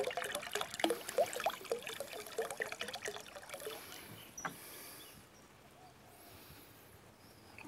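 Seawater is poured into a measuring container, giving a splashy, gurgling trickle for about four seconds before settling into a faint, quiet wash.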